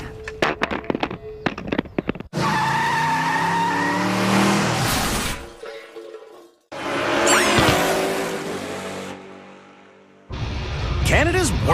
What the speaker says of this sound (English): The rest of Canada's worst drivers see if they can pass the forward handbrake spin-out